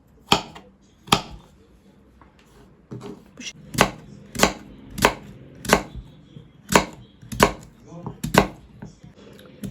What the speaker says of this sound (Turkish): kabakları dilimleyerek başlıyoruz arkadaşlar